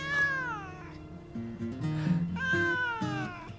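A cat meows repeatedly in a drawn-out, wavering caterwaul, close and fairly loud, with several rising and falling cries over a few seconds.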